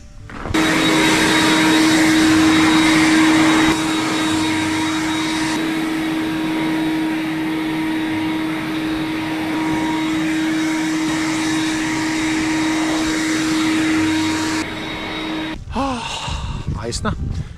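A snow blower clearing a pathway in Edmonton, Canada, gives a loud, steady motorized roar with a constant whine for most of the clip, then drops away while a person breathes and speaks briefly.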